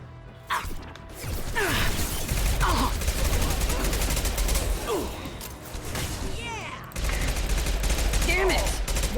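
Gunfire in a combat video game, sustained bursts of rapid shots with mechanical clatter and whooshes over several seconds, with brief lulls, and voices talking underneath.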